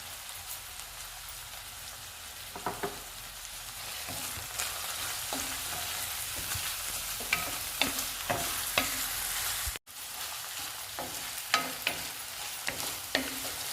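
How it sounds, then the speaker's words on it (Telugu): Carrot, capsicum, tomato, ginger, onions and green chillies sizzle in a pan for egg rice, a steady close frying hiss with repeated scraping stir strokes and a brief dropout near the end. "క్యారెట్, క్యాప్సికమ్, టమాటో, అల్లం, ఆనియన్స్, పచ్చిమిర్చి అన్నీ వేయించుకోవాలండి"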